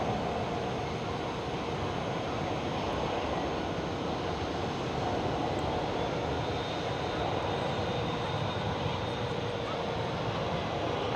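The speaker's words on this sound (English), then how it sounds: "There goes American Airlines 787." An American Airlines Boeing 787 passes at Schiphol with a steady, broad jet roar that stays even and fairly close throughout.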